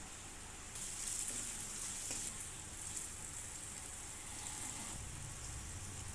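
Dry ground spice powders, ghati masala, garam masala, turmeric, coriander powder and salt, sizzling steadily as they are stirred and fried in a pan for dried bombil chutney, a close, continuous crackle with no voices.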